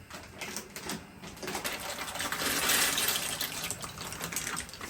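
Water gushes steadily into a pot, filling it to boil pasta, a continuous close splashing rush that swells slightly midway, with no voices.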